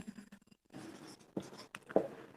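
Chalk or marker scratching across a board in a physics lecture, in short irregular strokes with brief pauses between them, fairly close in a quiet room.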